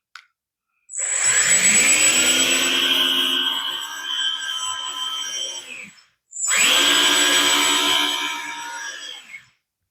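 A Lesu 850K RC dozer's track motor runs in two steady bursts, a smooth whirring electric whine of a few seconds each separated by a brief stop, close and fairly loud with no talk.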